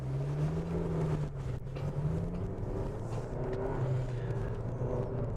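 A 2009 Honda Civic Si FG2 with a 6-speed manual gearbox and limited-slip differential drives along, its engine a low steady hum with gently shifting pitch under road and wind noise, heard from inside the cabin.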